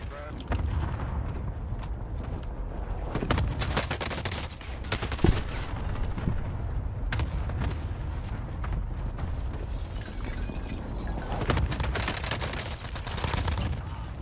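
Gunfire in the video game Call of Duty Warzone, a dense run of overlapping shots and bursts under continuous game noise, with voices talking over the action throughout.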